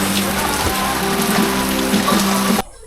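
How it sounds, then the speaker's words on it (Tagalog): Heavy rain pours down in a dense, steady hiss with drumming on a surface, a low pump-like hum underneath, cutting off abruptly near the end. "Grabe, sobrang ulan"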